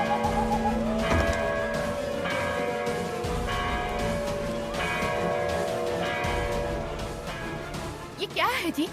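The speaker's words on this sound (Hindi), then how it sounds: "गांव के बाहर कन्नम्मा मंदिर से घंटी की आवाज आ रही है," A bell rings repeatedly at a steady rhythm, its metallic tone sustained under a hushed background, with a brief burst of other noise at the end.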